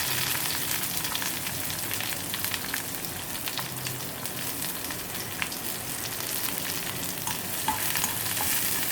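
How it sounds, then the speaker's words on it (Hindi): Onions fry in a pan with curry leaves for a bottle gourd peel sabzi, a steady dense sizzle with faint stirring clicks, close and continuous throughout. "अब ये प्याज मैं थोड़ी सी ब्राउन कर लूँगी।"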